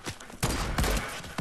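Distant video game gunfire crackles in a rapid rolling volley of sharp shots, several dense bursts across a moment with no pause, loud and continuous.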